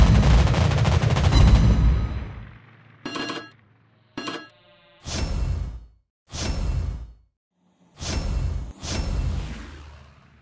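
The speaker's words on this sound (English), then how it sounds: "Enemy aircraft incoming! Anti-aircraft gun on full alert." Bursts of anti-aircraft gunfire from a U.K. Tier 8 cruiser, the Albemarle, in World of Warships Blitz: a long heavy barrage, then a run of sharp repeated volleys with short gaps between them, loud and close.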